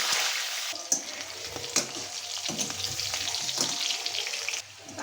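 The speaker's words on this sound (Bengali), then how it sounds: "আমি এই আস্তে আলুটা ভাজবো" Potatoes seasoned with salt and turmeric fry in a pan with a constant close sizzle, punctuated by a few sharp clinks and scrapes of stirring, and no talking.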